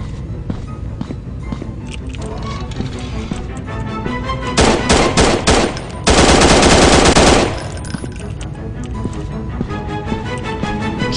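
Rapid automatic gunfire in the horror video game Slender Man Must Die, set in an underground bunker: a long, loud, sustained burst of shots over a busy, noisy game soundtrack.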